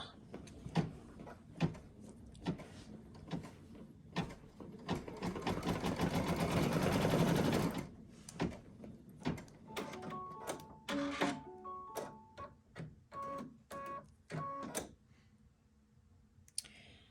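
An embroidery machine stitching an appliqué pillow design with a glittery shimmer kit, steady mechanical clatter that builds to a dense loud run, then breaks into shorter stitching bursts and clicks before falling quiet.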